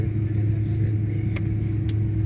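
A car drives through Sydney, heard from inside the cabin as a steady low engine and road hum, with a couple of faint clicks over the continuous drone.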